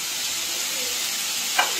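Tomato, ginger, chili and garlic sizzle steadily in a hot pan, a close, even frying hiss with a brief scrape of stirring near the end, no talking.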